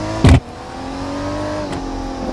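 Engine of a 2021 BMW M4 (G82) in the BeamNG.drive driving game, a steady mid-pitched drone with a brief loud burst near the start, then a smooth, near, constant hum with no talk.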